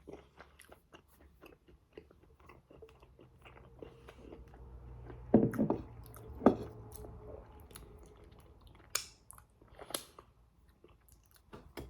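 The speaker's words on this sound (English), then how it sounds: "I apologise to all the people that don't like loud chewing" Loud chewing and crunching of food while someone tastes a pantry hamper item, with close, wet bites and squishy mastication scattered irregularly over several seconds and a few sharper crunches.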